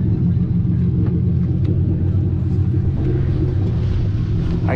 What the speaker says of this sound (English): Sounds good, and it's VQ powered.